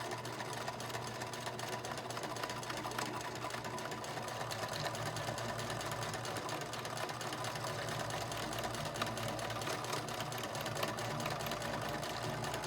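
A sewing machine stitches a homemade mask with elastic, running in a steady, continuous mechanical whir with fine rapid ticking throughout, close and fairly quiet.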